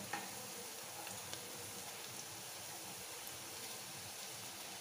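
Garlic, cumin, mustard seeds and curry leaves fry in ghee in a pan, a steady faint crackling sizzle with a couple of tiny pops and no talking.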